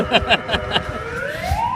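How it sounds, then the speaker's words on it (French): An ambulance siren sweeps upward in pitch as it passes, loud and close, after a few short sharp sounds. "C'est l'ambulance, c'est pas la police."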